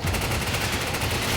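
Rapid gunfire from a Resident Evil 5 game session, a steady dense burst of shots lasting the whole moment at constant loudness, with no talking over it.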